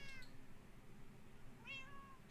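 Two short meows from a cat in the Minecraft video game, one at the start and one near the end, heard alone over a quiet background.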